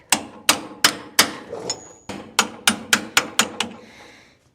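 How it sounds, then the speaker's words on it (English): Hammer tapping an axle seal into place on a 1958 Willys DJ-3A rear axle, about eleven crisp metallic blows in a steady rhythm with one short pause, close and loud with no talking. "Tap it in there straight."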